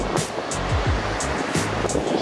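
Ocean waves wash ashore at Waikiki beach in Hawaii in a steady, close surf rumble with wind noise and faint scattered background sounds, with no talking.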